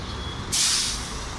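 A sharp air-brake hiss from a bus at an international bus station in Bulgaria, bursting out suddenly and loud, then easing off into steady station background noise.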